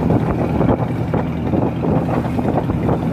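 The engine of a fishing boat out at sea drones loud and continuous, heavy and low, with rough wind buffeting and the rush of water around it.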